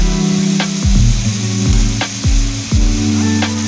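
Dried fish frying in a pan while being stirred, a loud close sizzle with repeated scraping strokes of the spatula roughly every half second, no voices.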